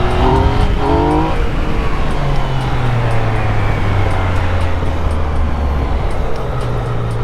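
Heavily modified Cadillac CTS-V running loud and close, a steady low engine drone holding throughout with a rising pitch sweep near the start, all under constant rumble with no talk.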